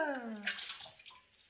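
Water running and splashing in a sink while a puppy, a Spitz, is being washed, a soft, close trickling wash that fades toward the end.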